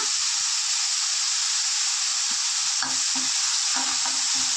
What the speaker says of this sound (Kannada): ಈರುಳ್ಳಿ ಎಲ್ಲನೂ ಫುಲ್ಲು ಸಾಫ್ಟ್ ಆಗೋವರೆಗೂ ಗೋಲ್ಡನ್ ಬ್ರೌನ್ ಕಲರ್ ಆಗಬೇಕು ಅಲ್ಲಿವರೆಗೂ ಫ್ರೈ ಮಾಡ್ಕೊಳ್ಳೋಣ